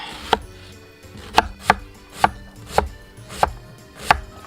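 A knife chops onion on a board in about seven sharp, close thuds at an uneven, unhurried pace. There is quiet between the strokes and no speech.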